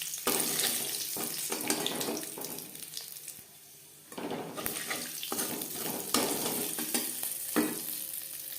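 Five-spice seeds and dried red chillies sizzle and crackle in hot oil in a kadai, a close, steady hiss with short stirring scrapes and a brief lull midway.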